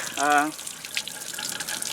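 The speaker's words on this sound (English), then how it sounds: "the extra water is indeed draining from the hot water tank as well as from the extra low point drain" Water draining from an RV hot water tank and low point drain, a soft continuous trickle and splash that is faint and close, with a brief voiced sound at the start.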